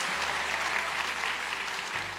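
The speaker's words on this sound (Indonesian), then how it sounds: "Tepuk tangan dong, mana yang bagian sponsor tepuk tangan tadi tuh?" A church congregation gives a steady, dense round of applause throughout a sermon, filling the room evenly, with no voices heard over it.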